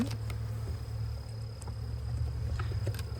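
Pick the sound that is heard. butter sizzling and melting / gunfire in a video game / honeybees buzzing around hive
honeybees buzzing around hive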